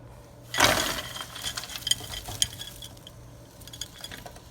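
Chopped okra and celery tumble into a skillet with a sudden clattering rush, followed by scattered clinks and scrapes of a utensil against the pan, close and fairly loud.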